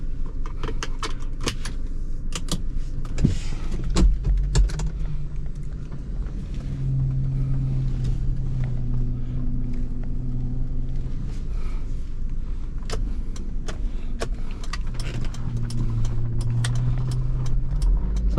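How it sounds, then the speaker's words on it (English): A 1999 Toyota 4Runner SR5 with rear-wheel drive on a test drive, its engine and road rumble a steady low drone heard from inside, with a faint cabin rattle like jangling keys and the engine note rising and falling gently. "let's begin the test drive of this 1999 Toyota 4Runner SR5 rear wheel drive."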